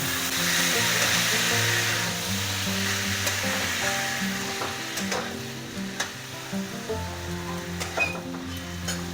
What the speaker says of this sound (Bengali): সর্ষে আর হলুদ একটু ভাজা ভাজা হলে